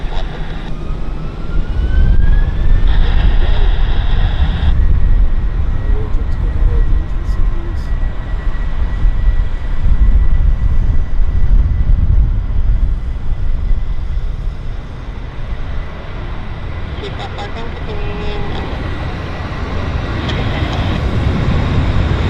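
An American Airlines airliner bound for Dallas-Fort Worth starting its takeoff roll at Vancouver airport, a continuous deep rumbling jet roar heard from a distance and holding steady throughout, with faint voices beneath.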